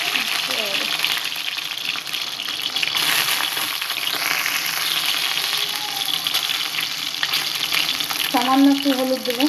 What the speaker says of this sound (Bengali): ডিমগুলো ভেজে নেবো আগে